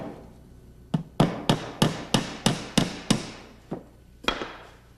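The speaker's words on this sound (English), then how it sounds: "Begin the weft by tacking to the middle of the back rail on the underside." Hammer tacks being driven into the wooden back rail of a chair during seat weaving: about ten sharp, close knocks, mostly in a quick even run, then two more spaced blows, with no talking.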